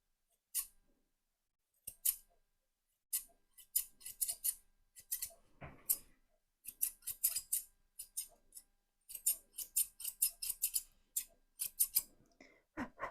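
Scissors trimming a miniature poodle's fur during grooming, a quiet close series of quick crisp snips in irregular bursts, some rapid clusters, with no voices.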